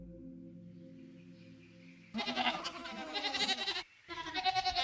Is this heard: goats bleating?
yes